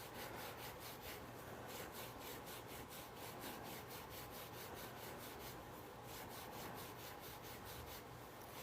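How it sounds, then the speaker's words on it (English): Deburring tool scraping the edge of a Georgia quarter coin ring: quick, rhythmic back-and-forth rasping strokes, steady and close, repeating for several seconds with no speech. "So very versatile tool, the deburring tool."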